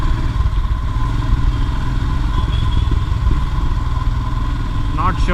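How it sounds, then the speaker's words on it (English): Royal Enfield Himalayan motorcycle engine running after a service, a close, steady thumping idle with mechanical clatter. "I'm not liking the engine noise though. I think it has become louder."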